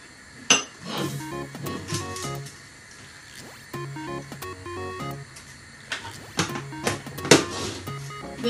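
A utensil stirs a creamy white sauce for carbonara in a pan, scraping and clinking against the metal in irregular bursts of sharp little taps, close and fairly quiet.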